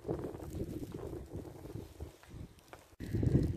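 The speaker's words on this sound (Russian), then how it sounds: "Ветер так сильно дует" Strong wind blows hard during February snowfall outdoors, a continuous rough rumble that gusts louder near the end, with no talking.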